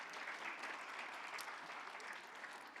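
Audience applause at the KZN Top Business Awards 2025 ceremony, steady dense clapping from a sizeable crowd, moderately distant and sustained throughout.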